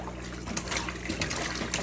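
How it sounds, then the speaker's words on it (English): Fish tank water running into a plastic tote, a soft close trickle and splash with small gurgles throughout, no talking. "I've put some water from the fish tank into this tote"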